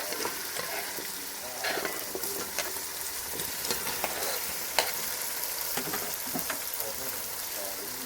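Potatoes frying with onion and tomato for achari aloo pulao, giving a dense continuous sizzle with frequent spatula stirs and scrapes, close and fairly loud.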